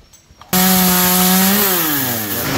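A chainsaw suddenly roars to life at full throttle, loud and close, its engine pitch sagging slightly as it bites into the wood of a mango tree.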